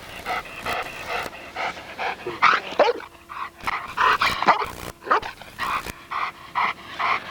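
A protection dog in bite training barks and growls in rapid, loud, close bursts with panting and yips between them, alone without talk.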